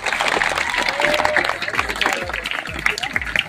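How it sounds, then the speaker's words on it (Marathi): An audience at a school science laboratory inauguration claps loudly for the teachers, with a bright, dense burst of applause under speech and some low thumps. "शिक्षकांच्यासाठी पण आपण जोरदार टाळ्या"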